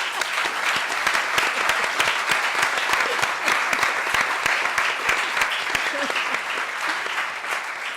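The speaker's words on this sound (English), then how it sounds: "I want to ask all of you for a round of applause for this" A conference audience claps for a woman on a wrap-up panel, loud dense applause filling the room for the whole stretch, with sharp individual claps standing out close by and no talk over it.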